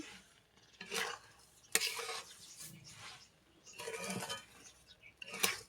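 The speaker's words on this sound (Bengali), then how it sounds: "এটা চিড়ে ভেজে চিট করে ছাড়বো।" Flattened rice being fried and stirred with liquid date palm jaggery in a pan, with scraping stirs and soft sizzling in irregular bursts, close and moderately loud, with no talking.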